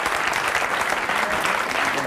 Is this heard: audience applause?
yes